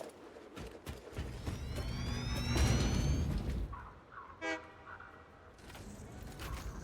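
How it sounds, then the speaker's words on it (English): A train setting off in the factory-building game Satisfactory, with a rising, rumbling run of engine noise, a short horn-like toot partway through, then quieter mechanical sounds. "I should take a train for a ride."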